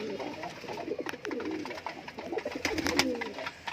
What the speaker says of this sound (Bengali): পায়রাগুলো তোমরা ভালো করে দেখো